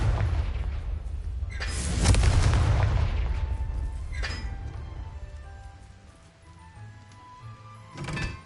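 In Hogwarts Legacy, a Confringo blasting spell sets off a heavy explosive boom followed by a crackling decay, with a second sharp blast near the end; no one speaks.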